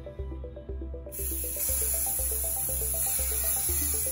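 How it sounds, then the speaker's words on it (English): A steady hissing spray from a can of white spray paint starts about a second in and continues to the end, over a repeating musical beat in the background. "I'm going to take this white spray paint, and I'm just going to go ahead and spray this sign"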